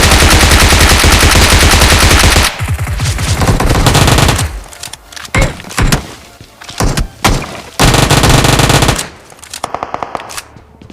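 Gunfire in the video game PUBG during a squad fight in Pochinki, loud sustained automatic bursts with sharp single shots and thuds, broken by short pauses between volleys.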